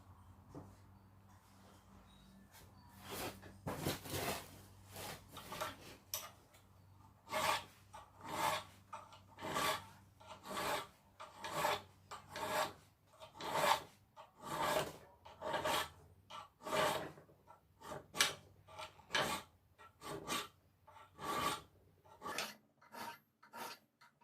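Hand file working a metal touch mark, with even rasping strokes in slow regular succession, close and fairly quiet, without speech.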